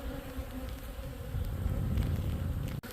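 Honeybees buzz steadily and closely around a Flow Hive after honey extraction, a dense continuous drone with no talking.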